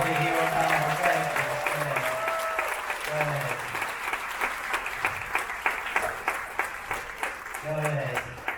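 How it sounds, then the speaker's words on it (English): An audience aboard a Carnival cruise ship claps for the department heads, steady applause close by and lasting several seconds while a voice speaks over the start and end. "Just give them a big round of applause."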